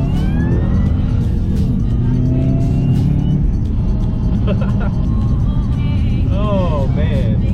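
A car accelerates hard during a speed pull, its engine droning loudly and continuously from close by with a rising whine. Faint higher tonal squeals appear near the end.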